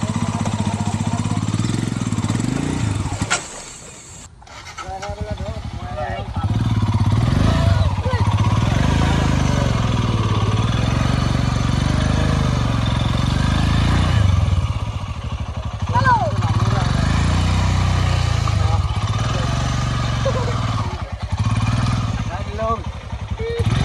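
A Himalayan motorcycle climbs out of a muddy paddy field, its engine a steady, close, mid-pitched drone that dips briefly, then revs and labors on. A voice talks over the engine.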